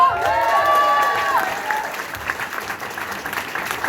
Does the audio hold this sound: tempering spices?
no